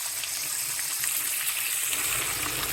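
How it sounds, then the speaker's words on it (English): Cooked maize and beans frying in a pan with green and red peppers, giving a steady close sizzle and crackle that holds level throughout, with no talking. "my maize and beans are already cooked, so it's just frying them"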